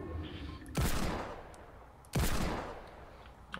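Two heavy gunshots in the battle royale game Fortnite, each a loud sharp blast with a long fading tail, spaced over a second apart.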